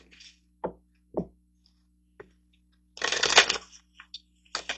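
Oracle portal cards are handled and shuffled close by, with a few crisp single snaps and then a dense riffling burst, followed by more light card flicks in a quiet room.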